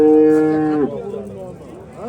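A cow at an Andijan cattle market gives a loud, drawn-out moo close by, which falls off into lower grunting and the murmur of a crowd, then a short second call starts.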